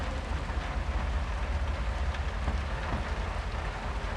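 Rain falls steadily in the video game Mundaun, a continuous broadband patter over a low rumble with no pauses and no voices, filling the whole stretch evenly.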